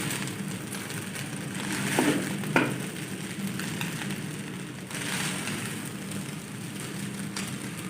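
Chicken fried rice with eggs stir-fried in a pan gives a steady, moderate sizzle, with two quick spatula clinks near the start and no voices.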